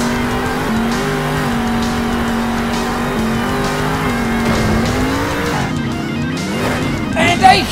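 Monster truck engine roaring in the Monster Jam Steel Titans video game during a Fire and Ice backflip championship run: a loud, steady engine drone that surges and dips in pitch, with a rev spike at the end.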